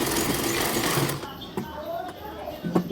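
A sewing machine stitches a zipper onto the hem of a salwar, running in a steady close mechanical whir that stops partway, followed by small clicks and handling noises.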